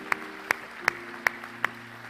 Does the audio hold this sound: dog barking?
no